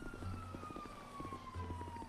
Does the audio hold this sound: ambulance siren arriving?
yes